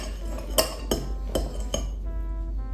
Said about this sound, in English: Now we're gonna keep whisking until it's nice and fluffy.